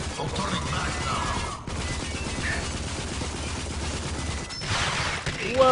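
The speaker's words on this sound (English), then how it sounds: "Whoa, he's got a minigun." A minigun fires in the video game Rage, a continuous dense roar of rapid gunfire that holds steady for several seconds with brief drops, loud and up close.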